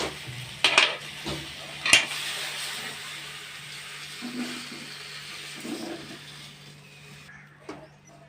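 Fried okra (bhendi bhaja) scooped from a pan onto a plate, with a couple of sharp metallic clinks and scrapes of utensil on cookware early, then softer shuffling and a final tap, close and alone.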